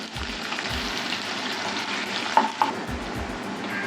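Chopped onion fries in hot oil with curry leaves and cumin, giving a steady, moderate sizzle with light stirring scrapes and a couple of brief clinks.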